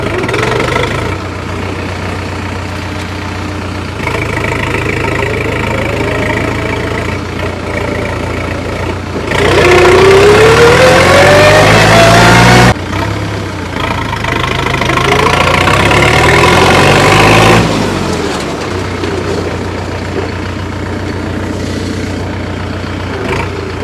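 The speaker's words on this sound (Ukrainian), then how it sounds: "зараз попробую з четвертої повишеної тронутися. Без газу, газу не даю." Skaut TE-504 50 hp mini tractor engine pulling away in fourth gear without throttle, a steady close diesel chug that swells to a louder, rising revving strain midway before settling back to a rough running rhythm.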